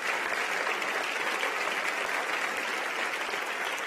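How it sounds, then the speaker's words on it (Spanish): Church congregation clapping during a sermon: dense, even applause from many hands that holds steady at moderate volume throughout, with no speech over it. "Denle un aplauso al Rey bendito."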